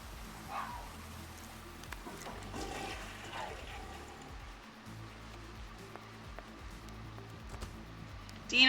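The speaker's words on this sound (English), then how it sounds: "And Dina, you're going to go take a shower and then use the toilet." Toilet flush in The Sims 2, a rushing watery gush of moderate loudness carrying on over several seconds with faint background game sounds, ending in a brief louder burst.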